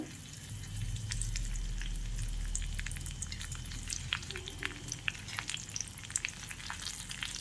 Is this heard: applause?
no